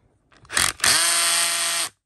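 A Bosch HDS181A cordless hammer drill is tested on its clutch setting: a short click and burst, then about a second of loud, steady, high-pitched whirring motor that stops abruptly.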